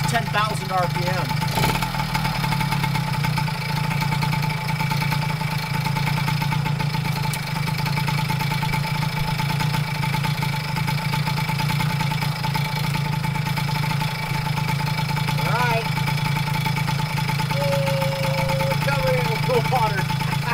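A warm motorized bicycle engine, with water being squirted into its magneto area, idles at a steady, loud, continuous drone throughout, and a few brief faint chirps sound over it.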